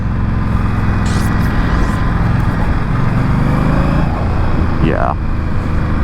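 A 2022 Indian Scout Bobber motorcycle engine runs steadily under throttle, a loud continuous drone heard close, with a brief rising whine and passing wind noise.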